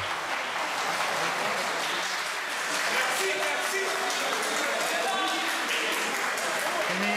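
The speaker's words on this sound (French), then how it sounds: "Dans le hall de l'hôtel, le diplomate est applaudi chaleureusement." Crowd in a hotel hall applauding a diplomat warmly, a steady wash of many hands clapping with voices and faint tonal sounds mixed in throughout.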